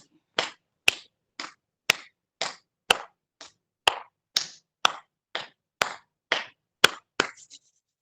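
Rhythmic hand clapping in a yoga session, a steady series of about fifteen close, sharp claps, some in quick doubles, with no voices heard.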